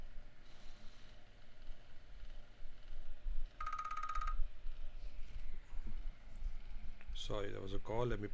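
A mobile phone rings with an incoming call during a live market analysis session, a short burst of repeated electronic ring tones in the middle, with a person talking near the end.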